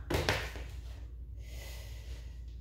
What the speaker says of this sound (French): C'est la respiration abdominale qui est enclenchée automatiquement.